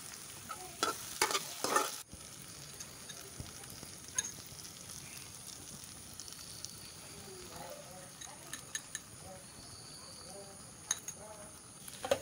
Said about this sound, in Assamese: কণীখিনি দি ভালকৈ এবাৰ লৰাই দিছো